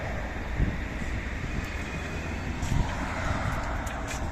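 A Warsaw tram pulling away, heard as a low, steady rumble of rolling wheels and motor that stays moderately loud and fairly close, without speech over it.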